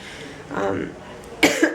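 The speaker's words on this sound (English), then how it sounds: "I have this cough that won't go away" A short cough from someone sick for months breaks in near the end, close and sharp, following some quiet voice-like sound.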